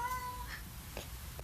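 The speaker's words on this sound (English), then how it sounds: "that's my cat." A pet cat gives a faint, thin meow indoors, a short wavering cry followed by a couple of softer chirps against quiet room tone, with no talking.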